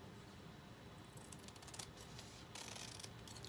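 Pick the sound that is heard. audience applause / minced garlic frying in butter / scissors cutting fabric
scissors cutting fabric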